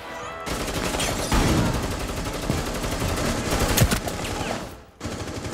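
Sustained rapid automatic gunfire rattles on for several seconds in a Rainbow Six Siege match, bursts of shots coming through a metal wall, dense and loud with a brief pause near the end before firing resumes.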